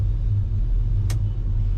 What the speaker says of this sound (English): Very nice running truck.